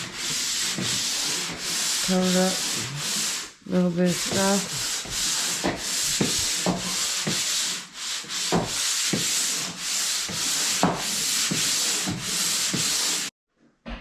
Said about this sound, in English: Now he's sanding